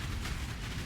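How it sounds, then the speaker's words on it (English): Dense continuous rumbling barrage of explosions from Earthshatter totems in Path of Exile, loud and overlapping without pause, with heavy low-end booms throughout. "multiple screens of explosions here"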